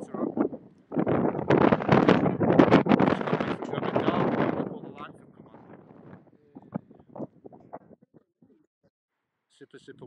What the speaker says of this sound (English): Super, super windy.